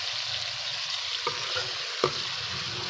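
Chopped tomato and two or three green chilies fry in a pan with arbi and baingan masala, a steady soft sizzle broken by a couple of brief stirring knocks, with no talking.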